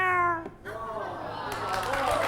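A contestant on a French TV game show does a drawn-out imitation of a cat meow with a rising and falling pitch, followed by studio audience noise and chatter.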